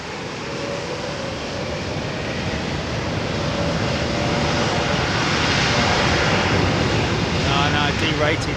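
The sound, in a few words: jet airliner on a derated takeoff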